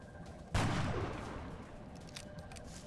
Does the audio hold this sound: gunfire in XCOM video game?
yes